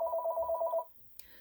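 A telephone rings in a rapid trilling burst lasting under a second, fairly clear and close, followed by a brief click and quiet.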